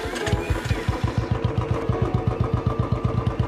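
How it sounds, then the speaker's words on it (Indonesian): A motorcycle engine catches and settles into a steady, rapid idle, its regular low putter loud and close, with no talking. "Eden menyalakan motor Selatan, memberi isyarat agar ia segera pulang"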